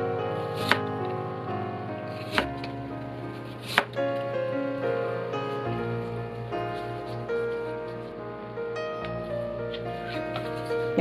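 A knife slices pickled sour bamboo shoots along the grain on a cutting board, a few sharp distinct chops spaced a second or so apart over a steady background of music.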